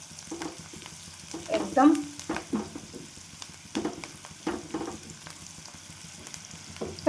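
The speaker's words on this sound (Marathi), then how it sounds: "छान कांदा परतून घ्यायचा तेलामध्ये" Onion sautéing in oil in a home kitchen, a soft low sizzle under intermittent stirring scrapes and clinks, with a brief spoken word.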